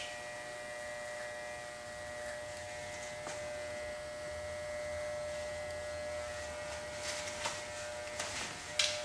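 Electric hair clippers buzz steadily and close while shaving a boy's hair for a summer cut, a constant hum that wavers a little as the blade moves, with a few faint knocks near the end.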